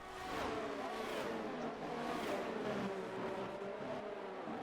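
F1 race cars from a racing video game scream down a straight at Miami, with steady high-pitched engine whine and overlapping passes of revving cars, loud and continuous.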